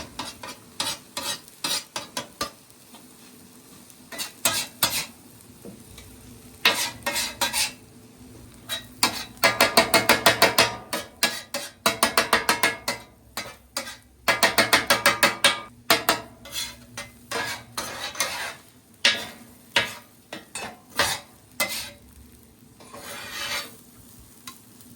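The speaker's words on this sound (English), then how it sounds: "Now we're just going to incorporate all those eggs." Eggs and noodles being stirred on a griddle that has been switched off: bursts of rapid, rhythmic metal spatula scraping and clatter come and go over a light sizzle, close and loud.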